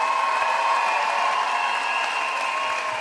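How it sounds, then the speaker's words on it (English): Steady crowd applause at a church camp session, a continuous even wash of clapping from a large audience with no pauses and no voices. "Clap for these wonderful Swedish."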